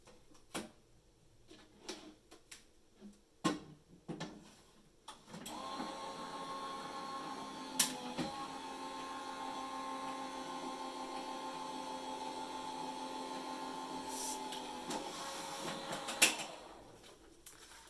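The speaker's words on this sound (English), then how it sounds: "I run this through my die cutting machine" A die cutting machine hums steadily for about ten seconds while cutting foam with metal dies, preceded by scattered handling clicks and knocks, then stops with a final clunk.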